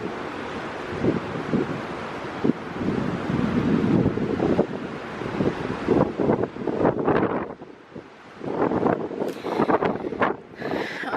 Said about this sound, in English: the wind is cray cray tonight, today, whatever. Has not slowed down at all.